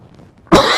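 One sharp, loud cough bursts out at the very end after a short stretch of near quiet, set in chilly weather that brings on colds.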